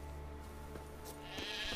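A sheep bleats in the video game The Witcher 3, a couple of faint wavering calls over a steady low game hum, with no talk.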